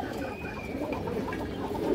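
Pigeons, including a female bird in moult, coo in a steady, fairly loud low murmur that fills the whole stretch without pause.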